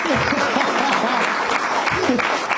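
Steady audience applause at a stand-up comedy show fills the clip, dense clapping throughout with voices talking and laughing over it.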